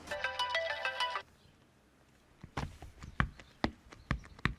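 A phone's musical ringtone plays loudly for about a second and then cuts off, followed by a scatter of footsteps and knocking sounds in an indoor drama scene.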